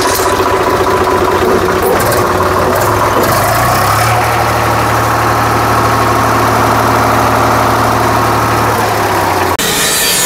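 A Farmtrac tractor engine idles steadily with a low, throbbing rumble and mechanical clatter, loud and close, running continuously before cutting off near the end.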